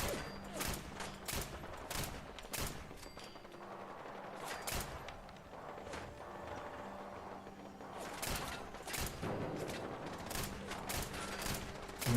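Repeated gunfire in the video game Fallout 4, in Survival mode: sharp shots in irregular bursts and rapid clusters across the whole stretch, fairly loud, with mechanical creaks and no talking.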